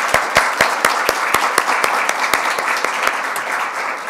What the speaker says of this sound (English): I want to give this panel a big round of applause.